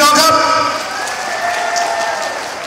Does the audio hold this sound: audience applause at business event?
yes